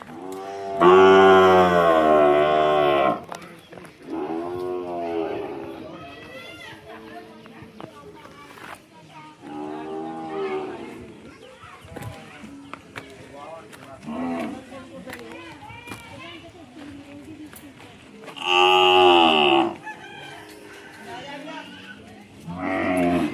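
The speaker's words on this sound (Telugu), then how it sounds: "నెంబర్ 1 టాప్ క్వాలిటీ బుల్స్ అయితే దూడలు అయితే మంచిగా వచ్చాయి ఫ్రెండ్స్" Top-quality bulls and calves at a village give several loud, drawn-out moos in separate bursts, with quieter calls, shuffling and livestock sounds between them.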